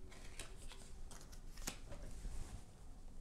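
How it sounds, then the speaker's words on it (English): Quest cards from the My Little Scythe board game are shuffled up close, a soft riffling and slapping of cards in quick bursts under faint room noise, with no speech. "Then next we will shuffle the quest cards."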